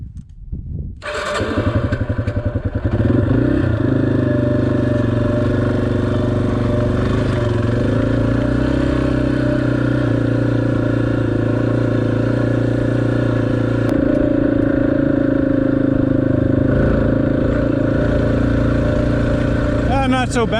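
A motorcycle climbs a rough mountain road toward West Mountain Peak, its engine catching after a second and then droning loud and close for the rest of the ride, with faint rider voices underneath.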